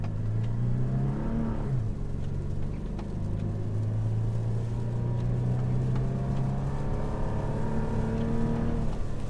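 A 2020 Toyota 4Runner TRD Off-Road on Bridgestone Blizzak tires accelerates through deep snow, its engine droning and climbing in pitch with a brief dip before rising again, loud and steady throughout.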